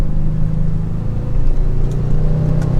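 ABT Audi RS7-R accelerating hard, a deep, steady engine rumble heard from inside the car, building smoothly and continuously without a break.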